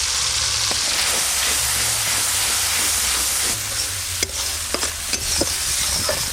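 Mustard-poppy and dried chili spice paste with turmeric, stir-fried in a pan over melted tomatoes, gives a steady loud sizzle and hiss, broken by a few scraping stirs near the end.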